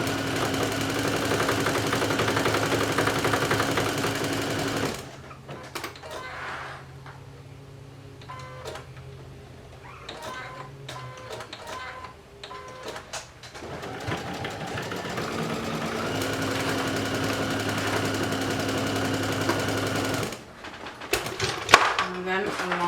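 Sewing machine stitching a swim top along the strap pickups and neckline, a loud steady stitching hum that pauses in the middle while a person talks, then resumes.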